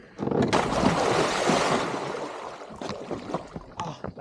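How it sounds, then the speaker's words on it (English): A person falls into shallow, rocky water: a loud splash and rushing churn that settles into smaller sloshing and dripping sounds. "I'm gonna fall in the water again here"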